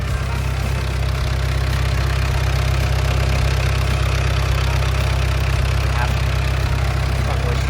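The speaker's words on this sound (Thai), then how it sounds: "ในส่วนของเครื่องยนต์นะฮะตัวนี้นะครับเขาจะใช้ งานเป็นเครื่องยนต์4สูบเทอร์โบนะครับ" A Komatsu WA100-6 wheel loader's four-cylinder turbo 4D95L diesel engine runs steadily nearby, a loud continuous low idle drone with no change in pace.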